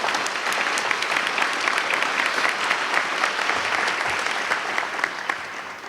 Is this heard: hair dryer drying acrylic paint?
no